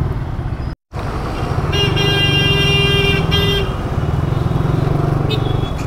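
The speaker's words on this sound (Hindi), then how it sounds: "ट्रैफिक बहुत हो गया यार" Heavy road traffic in an Indian street: a dense, loud wash of car and motorcycle engines with long sustained horn blasts layered over it, plus a brief cut in the sound early on.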